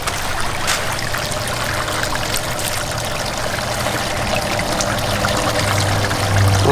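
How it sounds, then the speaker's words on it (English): Minnows poured with water into a backyard pond, a steady close splashing trickle and gurgle of water running continuously, with no voices heard. "We're gonna put the minnows inside the pond."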